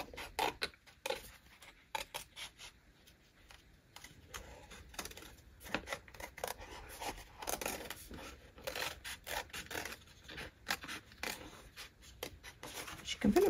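Dry scratchy rubbing and scraping as rub-on transfers are burnished onto a paper bingo card, irregular strokes close up with brief pauses between them.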